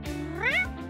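A single close cat meow, rising and then falling in pitch for under a second, heard clearly on its own with no talking.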